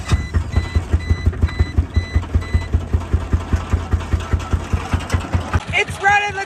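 A car engine damaged by shotgun shells runs roughly with the gas pedal held down, making a loud, steady thumping pulse that chugs along evenly and then breaks off into brief high beeps at the end.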